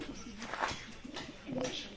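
Grey pigeons in a breeding loft give a few soft, brief coos at close range, with faint rustling between the calls.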